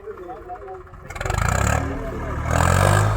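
A Swaraj 855 tractor, set up for a pulling contest on an 18-tine harrow, comes to life after a quiet second, its diesel rumble swelling loud and close with a steady pulsing throb.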